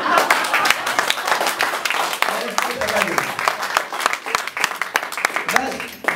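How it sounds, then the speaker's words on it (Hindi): Student audience at a college comedy show in Noida claps in scattered, uneven bursts, sharp hand claps mixed with a loud voice talking over them. "तालियां बजाते रहेंगे"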